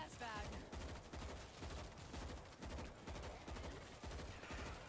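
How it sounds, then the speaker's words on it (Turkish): Machine gun fire in the zombie shooter World War Z rattles in rapid sustained bursts, loud and close, with short pauses between strings of shots. "Ben biraz machine gun sıkacağım."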